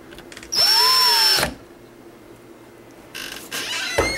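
A power drill drives screws while a lock is installed, with a close, loud whirring run of about a second, a quiet pause, then a second longer burst of drilling, with no speech.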